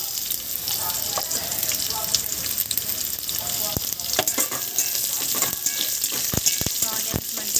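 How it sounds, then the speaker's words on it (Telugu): Onions sizzle with whole spices in hot oil in a pan, a loud, close, continuous frying hiss broken by scraping stirs and sharp crackles. "మసాలాలన్నీ ఫ్రై అయ్యాక ఆనియన్స్ వేసుకోవాలి"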